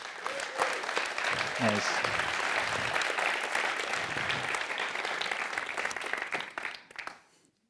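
Audience applause at the Amsterdam Science & Innovation Awards, a full, sustained round of clapping with a brief voice over it, fading out near the end.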